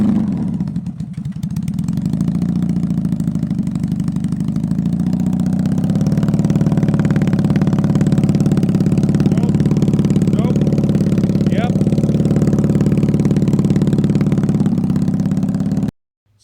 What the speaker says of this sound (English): we are firing on two cylinders, both the outer cylinders